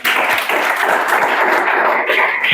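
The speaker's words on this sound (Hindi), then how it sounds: "चलो ताली बजा दो, सही बात।" Students in a classroom break into steady, dense applause that fills the whole moment, a continuous crackle of many hands clapping together without pause.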